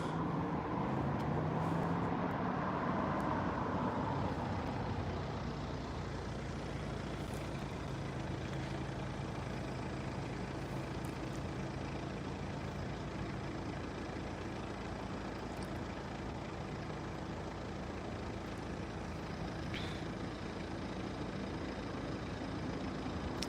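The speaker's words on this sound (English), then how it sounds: "That bus up there's coming round a bit quickly." An older low-floor city bus rounds a corner quickly on a street near railway lines in Lincoln. Engine and road noise rumble steadily and close throughout, with a brief rising whine at the start and a few light clicks later.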